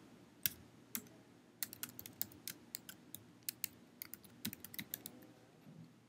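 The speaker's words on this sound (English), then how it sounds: "I'm going to type in my password." Password being typed on a computer keyboard: a quiet, irregular run of crisp key clicks spread over about six seconds, with no voices.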